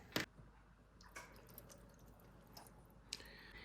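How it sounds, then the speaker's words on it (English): Quiet trickling water from a cat water fountain, with a few soft, irregular drips and splashes standing out against a faint, low background hum. "it is very quiet, doesn't make a whole lot of sounds, just a little bit of the water dribbling"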